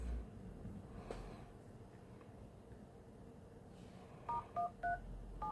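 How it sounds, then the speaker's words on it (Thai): Xiaomi Poco M3 smartphone dialing a test call after repair: a handful of short, distinct keypad tones near the end, following a quiet stretch of faint background room noise with no speech. "เดี๋ยวลองโทรก่อนครับ"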